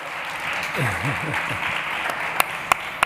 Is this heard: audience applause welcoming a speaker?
yes